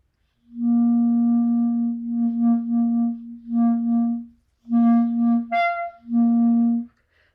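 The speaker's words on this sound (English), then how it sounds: "if your airstream doesn't have a strong foundation, then you can get kind of a wavering kind of sound" A clarinet or saxophone blown on a weak, unsupported airstream holds a plain reedy tone in several separate breaths, its pitch and volume wobbling and briefly cracking upward, played alone with no talking.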